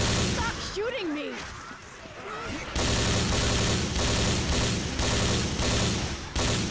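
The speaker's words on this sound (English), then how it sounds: "I'm shooting zombies here." Rapid gunfire from a game of Left 4 Dead 2 on a Resident Evil 3 Nemesis campaign, with bursts of shots from a magnum and grenade launcher sounding dense and continuous, mixed with game noise and voices talking over it.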